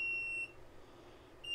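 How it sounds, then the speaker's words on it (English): High, piercing beeps from an alarm near a chicken egg incubator, one tone at the start and another at the end with a quiet gap between. "alarm that you hear going off"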